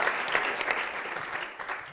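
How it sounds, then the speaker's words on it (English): Sustained applause from an event audience thanking the film crew, a dense steady patter of many hands at moderate loudness, easing briefly near the end before a last burst. "I want to give them a big round of applause."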